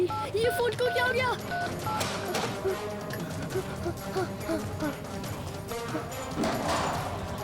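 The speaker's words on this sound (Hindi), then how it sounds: "आकाश तुम जल्दी डॉक्टर को जाके फोन करो" Telephone keypad tones are heard as someone dials a doctor in an emergency, the beeps mixed with frantic voices and a few thumps throughout.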